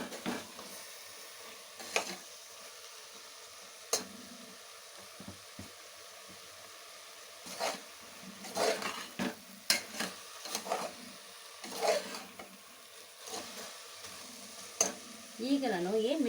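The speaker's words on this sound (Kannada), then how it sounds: "ಒಂದು 2 ನಿಮಿಷ ಫ್ರೈ ಆದರೆ ಸಾಕದು." Sprouted horse gram sambar ingredients frying in a pan give a faint, low sizzle, broken by scattered scraping and clicking stirring strokes throughout, with no talk.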